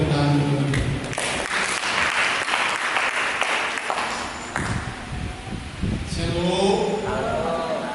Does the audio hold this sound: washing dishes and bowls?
no